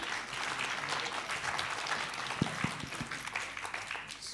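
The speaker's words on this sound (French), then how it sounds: "Je vous demande d'applaudir donc Monsieur Gérard Osterman." Audience applause in a hall welcoming Gérard Osterman, founder of a regional college of addiction specialists, at a wine-and-health conference; a dense, steady wash of clapping holds throughout with a few louder claps standing out near the end.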